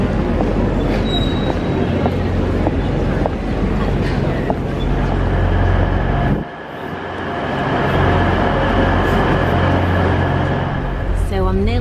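Loud, steady rumbling of a moving train, broken briefly by a lull midway, with a thin wheel squeal near the end.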